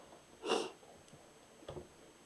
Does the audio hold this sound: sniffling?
yes